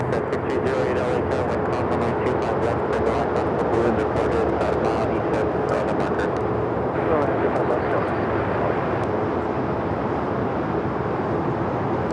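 A China Airlines Boeing 777 at LAX airport gives a steady, broad jet engine roar at a moderate distance, lasting throughout, with voices talking over it.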